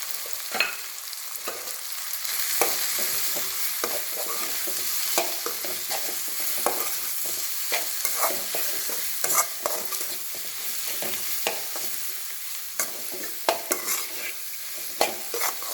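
Spice masala of turmeric, chili powder and coriander powder sautés in oil with soft-cooked eggplant for a kara kuzhambu, making a steady moderate sizzle broken by repeated scraping stirs of a spoon in the pan.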